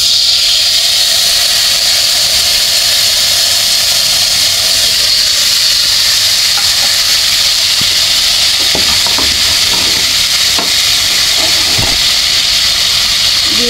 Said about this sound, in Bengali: আমি যে মাছটা ভাজছিলাম এই মাছের তেলটা আমি দিয়ে দিব।